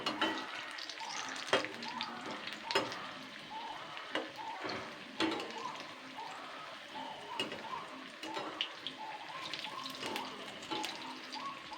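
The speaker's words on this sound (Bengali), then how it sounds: "এবার আবারও দু মিনিট ভেজে নেবো পরের পিঠটা" Malabar spinach fritters frying in hot oil, a steady close sizzle and crackle with scattered pops continuing throughout.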